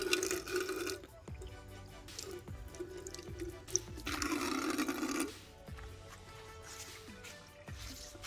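Water sprays and splashes against a car windshield with a wet hiss, followed by scattered drips and squishy wiping sounds.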